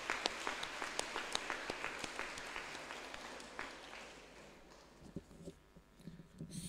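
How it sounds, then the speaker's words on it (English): Applause from an audience at a school information night for Year 9 students, distant and moderately quiet, with dense clapping that thins and fades over several seconds into scattered claps and room noise. "So another round of applause for the Year 9 students coming in, Mrs. Burton."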